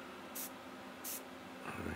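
Two short bursts of sealant or fixative spray from an aerosol can, used on a figure painting project, hiss out about half a second each, close and clear, with faint handling noise after.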